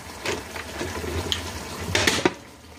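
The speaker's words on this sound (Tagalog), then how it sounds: "Lagyan natin ng tubig kasi parang siya masyado." Water pouring into a cooking pot in a home kitchen, a steady moderate splashing stream that swells briefly near the end, with no talk.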